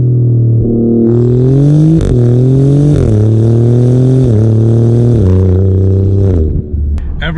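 Alfa Romeo Giulia Quadrifoglio accelerating hard through several gears, with a loud, close exhaust that climbs in pitch in each gear and drops at every quick upshift, about four shifts in a row.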